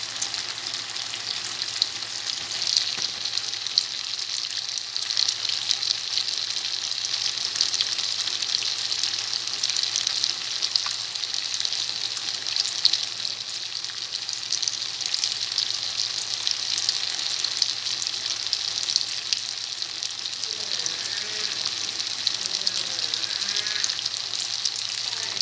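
Pieces of chicken adobo browning in a pan make a dense, continuous sizzle and crackle close up, steady for the whole stretch, with faint bubbling and stirring near the end and no voices.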